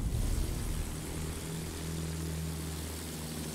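Propeller fighter plane engine in a video game, a steady droning whir at moderate level, continuous and without voices.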